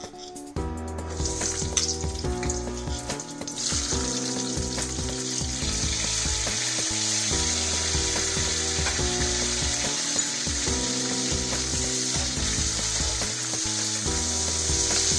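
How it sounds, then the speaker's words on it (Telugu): Onions frying in hot oil in a pan for restaurant-style kadai paneer, a steady loud sizzle over background music, with no talk. "ఆయిల్ వేడెక్కిన తర్వాత ఆనియన్స్ వేసుకోవాలి."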